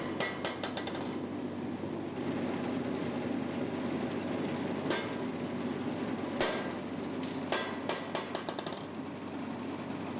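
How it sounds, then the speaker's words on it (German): A drop forging hammer in a forge shapes scissor blanks, sharp metallic blows striking in quick bursts over a constant industrial rumble. "zu dem Gesenkschmied, der dann auf dem Hammer den Scherenrohling schmiedet"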